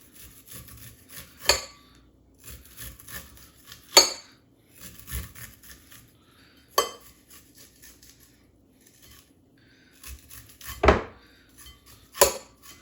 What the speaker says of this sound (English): We're going to cut that corn right off the cob.